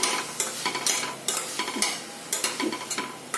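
Grated beet and carrot roast in a pan over a low gas flame, a dense sizzle broken by repeated close scraping strokes of a spoon stirring at a quick, regular pace.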